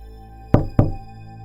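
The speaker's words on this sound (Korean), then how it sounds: "아까 그 노크 소리가 들렸습니다." Two sharp, close knocks sound on a toilet stall door in an eerie horror-story effect, spaced about a quarter second apart against near silence.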